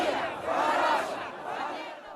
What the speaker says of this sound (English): the crowds in Kherson chanted as they marched past the tanks